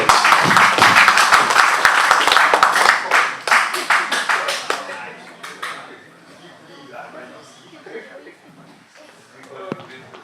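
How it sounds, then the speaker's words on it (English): Audience applause at a fight press conference for two fighters, a dense burst of clapping that swells loud at first, then thins out and fades into scattered claps and room noise. "Please give a round of applause to both fighters."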